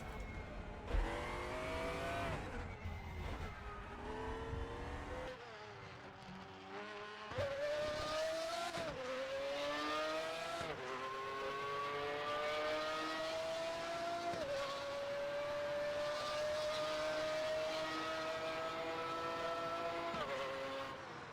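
A V12 race car engine in the RaceRoom racing game revs loudly and continuously, its pitch climbing and dropping through gear changes before settling into a sustained high-pitched wail, with no talking.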